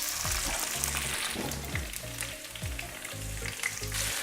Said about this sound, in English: Now we add the chilies,